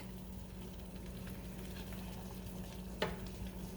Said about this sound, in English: caramelize once the liquid is all evaporated. Stir that around.